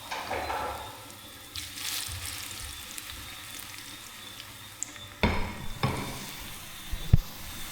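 Food sizzles steadily in a pot during Jamaican curry cooking, a continuous close frying hiss with a few sharp clatters of a utensil near the end.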